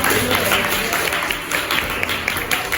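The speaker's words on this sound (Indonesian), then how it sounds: "Kasih aplaus teman Haliza" Students in a classroom give a classmate a dense, steady round of applause that holds loud and close throughout.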